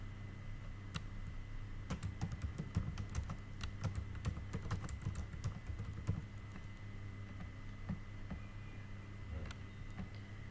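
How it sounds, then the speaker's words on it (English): Steady keystrokes on a computer keyboard while entering text into a spreadsheet shape, clicking in uneven bursts and pauses, close and fairly quiet over a low background hum. "type the text directly"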